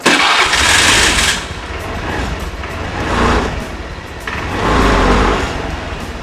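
Motorcycle fitted with an Alsento anti-theft sensor alarm being started: loud starter cranking bursts that catch into a running engine, repeated over several seconds with no talk.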